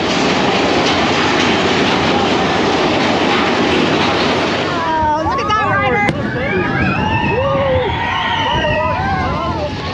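Roller coaster train running on its track at Magic Kingdom at night, a steady loud rumble and clatter throughout, with riders' excited voices and shouts rising over it in the second half.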